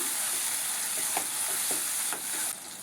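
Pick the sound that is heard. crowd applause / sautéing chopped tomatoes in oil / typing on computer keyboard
sautéing chopped tomatoes in oil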